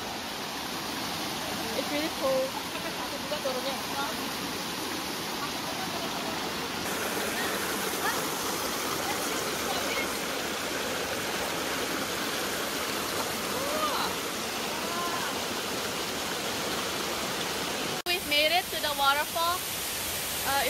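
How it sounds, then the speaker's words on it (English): A waterfall and stream near a farmstay in Bogor, Indonesia, roaring in a loud, steady, close rush throughout, with people talking briefly over it. "This is the waterfall."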